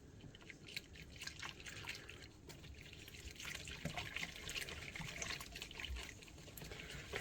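Liquid snickerdoodle mixture poured slowly into a bowl for butter bars, a steady close trickle with faint dripping and no talking.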